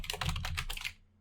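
A short burst of computer keyboard typing while entering Python if/else code, about a dozen quick close keystrokes in an even rhythm over a steady low hum, stopping abruptly toward the end.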